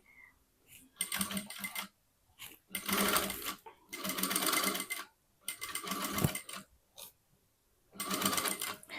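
A sewing machine stitches a Katori blouse with a boat neck, running in five loud, close bursts of rapid mechanical chatter separated by short quiet pauses.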